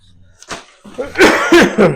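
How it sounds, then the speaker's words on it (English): A few harsh, abrupt coughs burst out close to the microphone, one after another, after a brief quiet start. "Yes, I'm coughing in the microphone."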